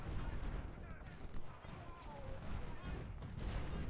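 Artillery fire in Ultimate General: Civil War, a Civil War battle at Antietam, rumbling as a steady dense bed of distant booms and crackle throughout, with soft game sounds layered over it.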